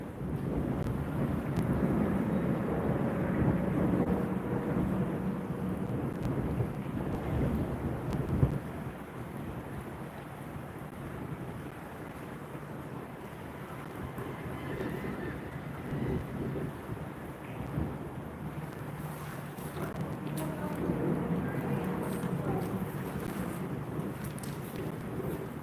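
Steady wind at the Jersey Shore buffeting the microphone in a continuous low roar with gusty surges throughout, no voices.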